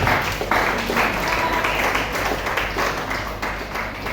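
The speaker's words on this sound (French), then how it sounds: "On acclame fortement la parole de Dieu" A church congregation applauds loudly after the reading, a dense, steady wash of clapping that carries on unbroken with a little murmuring beneath.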